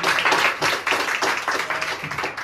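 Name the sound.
audience clapping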